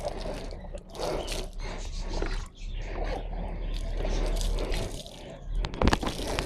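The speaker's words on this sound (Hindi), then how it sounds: "पानी डालते हैं।" Water is poured over a budgie cage during cleaning, splashing and gushing in uneven bursts close by. Someone talks at times, and a sharp clatter rings out near the end.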